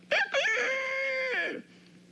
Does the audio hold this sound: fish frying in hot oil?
no